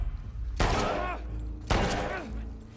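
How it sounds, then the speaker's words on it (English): Gunfire in The Last of Us Part II, two loud, sharp shots about a second apart, each leaving a long ringing, echoing tail amid game sound. "Shoot a guy 7 times."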